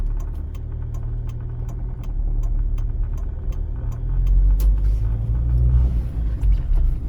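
A driving school car in Vinnytsia slows and stops during a licence exam route, its engine a low steady rumble that swells midway, with a regular ticking indicator clicking throughout.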